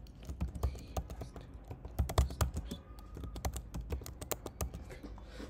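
Close typing on a computer keyboard while entering a page title in WordPress, a steady run of crisp, uneven key clicks with occasional louder strokes and no talking.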